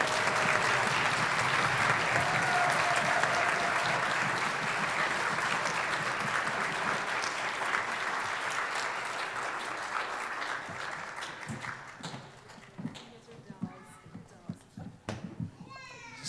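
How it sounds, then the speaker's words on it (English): Full audience applause fills a high school auditorium after an orchestra concert, loud and dense at first, then thinning out into scattered claps and voices near the end. "So give them a big round of applause."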